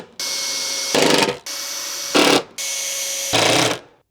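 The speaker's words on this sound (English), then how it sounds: "I'm going to go ahead and pre-drill where I'm going to install that screw" A power drill pre-drills wood in three bursts, each steady whine rising into a louder, rougher grind as the bit bites in, with brief pauses between.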